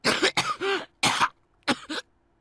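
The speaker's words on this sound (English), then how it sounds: "coughing violently, enough that I was afraid his lungs would burst out of his chest" A Hakuoki video-game character coughs hard in several harsh bursts, two quick fits then two more, rasping and close, with short pauses between.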